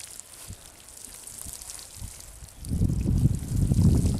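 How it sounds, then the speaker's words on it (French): Water patters down like light rain onto garden soil prepared for planting leeks, quiet scattered drips at first, then a denser, louder spray of watering. "Maintenant on arrose bien le terrain."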